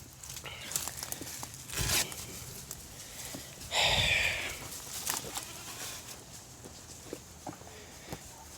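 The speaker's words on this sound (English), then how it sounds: "There's goats." Goats bleat from inside a long-unused Chevy C60 truck that sat for ten years, a short burst near the middle of the clip above faint rustling and scattered footsteps, moderately close.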